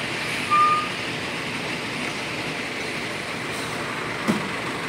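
A heavily loaded truck backs up on a dangerous, narrow road, with a steady low engine rumble and a faint reversing beep near the start, plus a brief hiss later.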